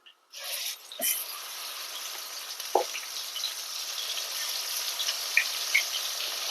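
Spice paste fries in hot oil with cloves, cardamom and cinnamon for an Andhra-style capsicum curry, giving a continuous bright sizzle that settles in after a brief quiet start, with a couple of soft spoon knocks.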